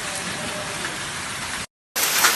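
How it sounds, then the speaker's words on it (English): Volcanic stones falling on the ground like rain at a home in St. Vincent during an eruption, a dense, steady pattering hiss that fills the clip, broken by a brief gap before resuming. "And stone falling like rain, as you can hear."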